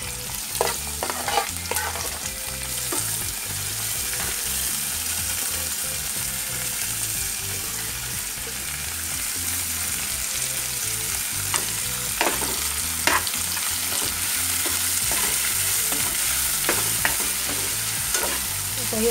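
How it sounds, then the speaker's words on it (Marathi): Onion and tomato fry in a pan for dry prawn sukha jawala, a steady close sizzle running throughout with repeated scraping and clinking as a spoon stirs the mixture, no voices. "आता हे आपल्याला चांगलं फ्राय करून घ्यायचं।"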